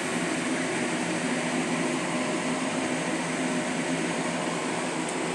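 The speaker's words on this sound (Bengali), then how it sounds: "গ্যাসটা জ্বেলে নিয়েছি, গ্যাসটা জ্বলছে।" A lit gas stove burner gives a steady, even roar with no break, heard alone before frying beguni.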